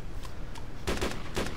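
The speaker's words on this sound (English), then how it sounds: "Stop shooting!" Semi-automatic rifle fire in the video game Arma 2, a few separate sharp shots spaced unevenly over roughly a second, loud and close against steady background noise.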